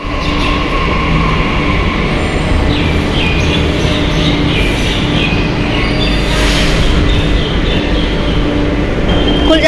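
A Delhi metro train pulls into the station with a loud, continuous rumble, some faint wheel squeal and a brief hissing burst partway through, and no speech.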